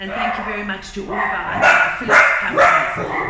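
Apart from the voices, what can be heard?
dogs barking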